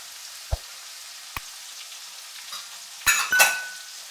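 Garlic and chillies dropped into hot oil with asafoetida for Gujarati eggplant bharta: two light taps, then a sudden sharp sizzle near the end that fades quickly.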